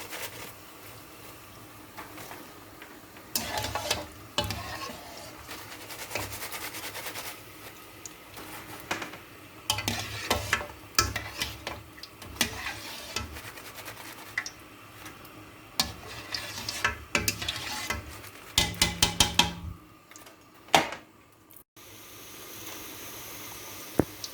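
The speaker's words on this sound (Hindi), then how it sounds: "ये बेशक जुड़ के चला जाए ऑयल में, इसको अभी मैं चम्मच से हिलाऊंगी" Namak paray frying in hot oil, stirred with a spoon, give a steady sizzle with repeated scraping clinks and stirring strokes, close and moderately loud, dropping off briefly near the end.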